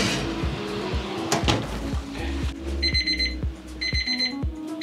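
Oven timer beeping to signal a puff pastry pie is done, two short bursts of high repeated electronic beeps over kitchen clatter and thumps, close and clear.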